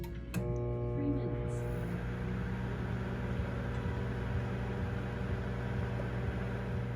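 A Sharp ZSMC1449FS smart microwave oven starts with a click and beep, then runs with a steady, even hum and fan whir, close and unchanging.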